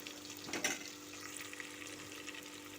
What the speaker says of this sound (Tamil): பெரிய வெங்காயம் நல்லா ஃப்ரை ஆகணும்.